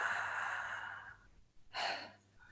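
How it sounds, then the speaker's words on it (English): Slow breathing in and out through an open mouth during a guided breathwork exercise, a long soft exhale followed by a pause and a sharper breath, close and quiet with no talking. "So we're going to just do a little bit of breathing through the mouth."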